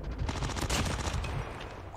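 Rapid continuous submachine gun fire from an MX9 SMG in the mobile shooter Call of Duty Mobile, loud and dense throughout with rattling bursts.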